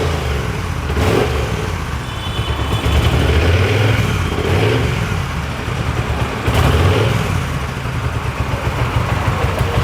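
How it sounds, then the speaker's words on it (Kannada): A second-hand superbike motorcycle engine at a Bangalore used-bike sale runs loud and close, revving up in several swells over a steady idle. "ಓಕೆ, ಮಾತ್ರ ಸ್ಟಾರ್ಟ್ ಮಾಡ್ತೀನಿ, ನೋಡಿ ಗಾಡಿ."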